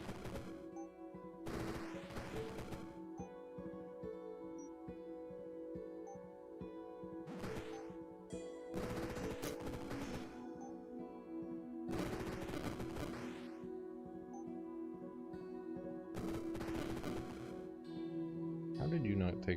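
A Mega Barrage spell is cast in the game Rift Wizard 3, unleashing bursts of rapid crackling impacts like gunfire in repeated volleys over a steady droning background, at a quiet overall level.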